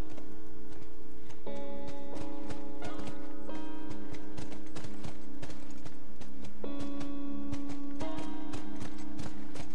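Horse hooves in the video game The Last of Us, a steady clip-clop of a walking horse under sustained musical tones and ambient game sound, with little talk.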